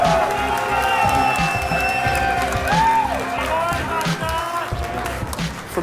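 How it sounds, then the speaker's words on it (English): A crowd at a Clash Royale tournament in Helsinki, Finland claps and cheers at a moderate distance, with a steady patter of applause, while a presenter talks over it through a PA system. "One more time, ladies and gentlemen, a round of applause."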